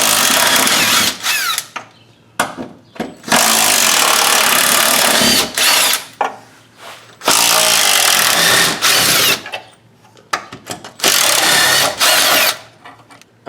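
Impact wrench or power drill zipping out the four crossmember bolts on a Jeep Cherokee, loud bursts of whirring that start and stop repeatedly, with short pauses between runs and no talking.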